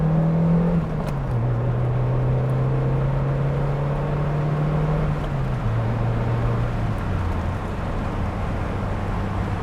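Steady interior drone of a Toyota Paseo coupe driving, with a low engine tone shifting through gear changes under continuous broadband wind noise, no talking.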